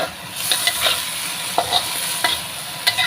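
Food sizzles gently in a pan while a utensil stirs it, giving soft scrapes and a few clicks against the metal over a steady frying hiss.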